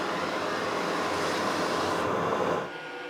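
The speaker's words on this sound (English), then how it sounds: "Stone grinder flattens the ski and puts structure into the base." A stone grinder flattens a ski and cuts structure into its base, giving a steady, loud broadband grinding roar that holds constant and then drops slightly near the end.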